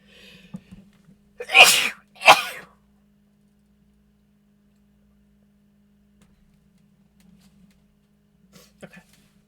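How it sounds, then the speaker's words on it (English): Two loud, sharp sneezes in quick succession from one person, close up in a quiet room with a faint low hum, followed by small soft sounds. "Oh, I have sneeze coming."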